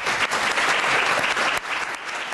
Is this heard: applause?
yes